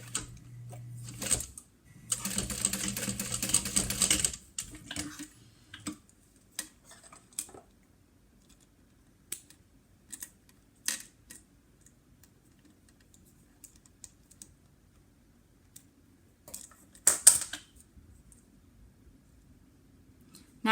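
A sewing machine top stitching a wallet near a swivel clip: a short, loud buzzing run of stitches early on, then scattered clicks and handling noises with long quiet gaps.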